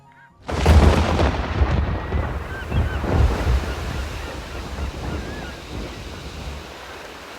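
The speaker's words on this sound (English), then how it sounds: "I endured the wrath of the storm without being able to lift a finger to protect myself" A storm at sea roars in after half a second of near silence, with heavy crashing waves and a low rumble of wind surging and churning steadily in the foreground and slowly easing toward the end.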